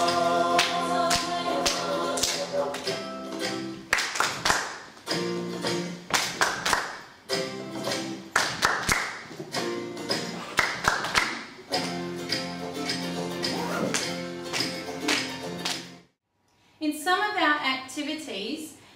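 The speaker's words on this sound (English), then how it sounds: "my student is going to play the drum on the board to the TT tar pattern while the students on the floor are clapping the rhythm" Students in a music classroom clap a steady rhythm while a drum is played on a board, heard as sharp repeated claps and taps over tonal backing music that stops near the end before a different, softer patterned sound.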